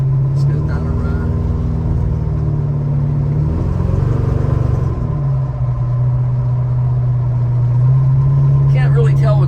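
1968 Plymouth GTX with a 440 V8, driving down the road: a loud, steady low engine drone heard from inside the car, pitch rising slightly mid-way, with a faint voice briefly near the end.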